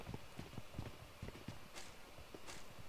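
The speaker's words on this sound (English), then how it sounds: "Yeah, I hear footsteps." Footsteps in PUBG Mobile on the Sanhok map, a faint, quick series of soft thuds pattering along in an uneven rhythm, some distance off and low in level.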